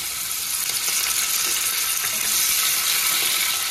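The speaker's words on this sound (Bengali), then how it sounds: "আলুটাকে আগে ভালো করে ভেজে নেব।" Small diced potatoes fry in hot oil with cumin seeds and dried red chilli, giving a steady, dense sizzle and crackle close by, with no speech.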